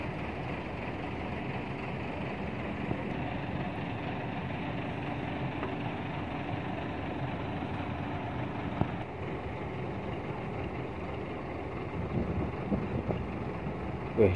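A Haryanto bus engine idles steadily in a parking area, a constant low rumble with a slight rise near the end and no speech over it.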